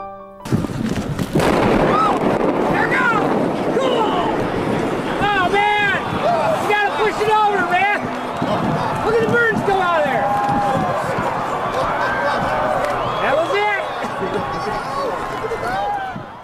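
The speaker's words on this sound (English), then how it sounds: "You can hear the horror there, or maybe it was laughter and wild cheering" A crowd watching a stubborn 202-foot feed mill tower demolition shouts and cheers loudly with rising and falling voices, with wind buffeting the microphone throughout.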